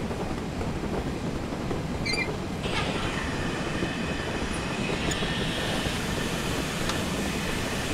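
GWR Saint steam locomotive in Train Simulator running steadily with the blower on, a loud continuous rumble of rolling wheels and rail noise with occasional faint squeals and hissing tones.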